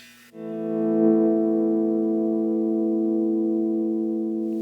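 A sustained electric guitar chord through a compression pedal rings out with long, even sustain after a sharp attack, smooth and steady with a slightly processed, compressed, synth-like tone.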